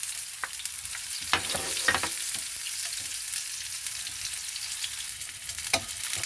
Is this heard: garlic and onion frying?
yes